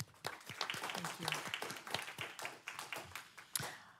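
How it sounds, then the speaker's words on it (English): Sparse, uneven clapping from a small audience at a city council meeting, individual claps audible in an irregular patter, fairly quiet and close. "let's please give her a round of applause"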